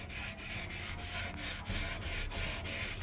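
Steel wool scrubs rust off an old metal piece being upcycled, a continuous close, harsh rubbing hiss with a quick back-and-forth rhythm of strokes.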